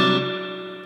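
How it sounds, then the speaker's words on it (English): A guitar note rings out through a Strymon pedal set to spring reverb, a single sustained tone with a springy wash decaying smoothly over under a second, alone without talk. "Simulates more of like an amp reverb, where you get that spring sound."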